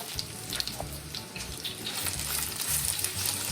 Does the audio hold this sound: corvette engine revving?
no